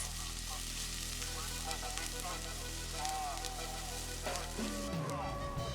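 Onions browning in a pan with whole bay leaves, cumin seeds and cloves just added, giving a steady close sizzle with faint stirring clatter and a brief scrape near the end.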